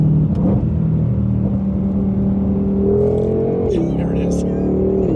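A 760-horsepower 2020 Ford Mustang Shelby GT500 Track Pack engine hums and revs, its pitch rising and then dropping back, loud and close with a steady rumble underneath.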